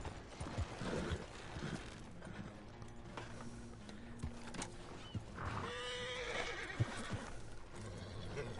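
Horse neighing and hooves clopping in Red Dead Redemption 2 online, a drawn-out whinny over irregular hoofbeats and faint wind, fairly quiet throughout.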